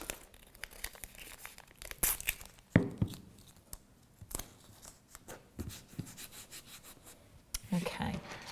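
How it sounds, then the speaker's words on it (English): Adhesive tape pulled off and pressed along the edge of a lampshade panel to form a hinge, with close tearing, rubbing and crinkling sounds in short bursts and a brief voice in the background. "So just pop in tape along, and that's going to kind of create a hinge for us."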